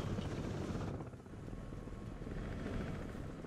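A Russian Mi-26 heavy-lift helicopter flies in the Broken Arrow war game, its steady rotor chop and engine drone a continuous faint rumble throughout, with no voices over it.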